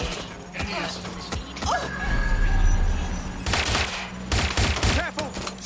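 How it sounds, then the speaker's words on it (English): Gunshots crack in a Watch Dogs Legion firefight, several sharp bursts and rapid volleys scattered across the stretch over a low booming rumble, with a voice speaking amid the shots. "Careful! Shots fired!"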